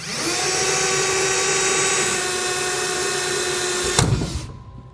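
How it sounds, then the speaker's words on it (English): A loud, steady power drill grinds continuously through the metal of a 2018 Ram 2500 truck bed for about four seconds, then winds down and stops. "go ahead and drill through that as well"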